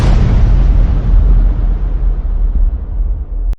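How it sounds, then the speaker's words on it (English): Big Bang explosion effect: a loud, deep rumbling boom that starts at full force and slowly fades over a few seconds before cutting off abruptly. "Let's take a step back and start out with the Big Bang."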